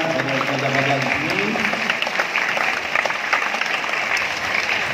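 An audience at a Malaysian secondary school ceremony applauds students with sustained, thunderous clapping from a large crowd, steady and loud throughout, with a brief tonal sound at the start.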